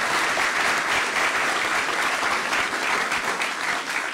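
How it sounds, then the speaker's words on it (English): A town hall crowd in Winterset, Iowa, applauds warmly, thick continuous clapping at a steady loudness across the whole stretch with no clear speech. "How about another round of applause?"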